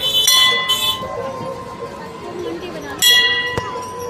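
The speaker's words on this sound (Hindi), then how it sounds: "घंटी बजा रहे हैं" A temple bell rung at Har Ki Pauri on the Ganges in Haridwar gives two bright metallic bursts of ringing tones, one early and one near the end, over a steady murmur of crowd and riverside noise.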